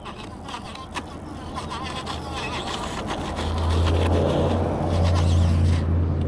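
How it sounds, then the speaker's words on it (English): Electric bike fitted with a Bafang kit spinning its rear wheel in a burnout, a rising motor whine with tire scrubbing that grows louder and steadier in the second half. "There you go, burnout."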